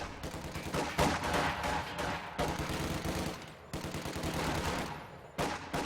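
MG42 machine gun bursts in the Company of Heroes 2 strategy game, several sustained rattling volleys separated by brief pauses, set amid dense battlefield noise.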